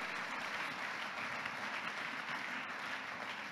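Steady, dense applause from a church congregation fills the space, an even wash of many hands clapping at low-to-moderate volume with no pauses.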